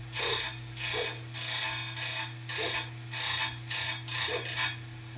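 A square-chisel chainsaw chain tooth being ground by hand with a stone: about eight steady, rhythmic rasping strokes, close and clear, with no talking.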